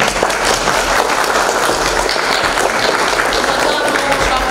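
Students applaud a classmate at a school awards ceremony for top results, giving dense, continuous clapping from a crowd that stays loud and even throughout the short span.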